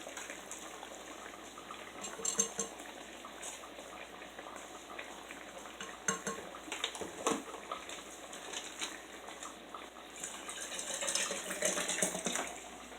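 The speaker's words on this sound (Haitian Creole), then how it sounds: "Mettez de l'eau là-dedans." Water poured into a juice jug while mixing a Prolessa Duo drink, heard as a faint, steady splashing wash that swells slightly toward the end.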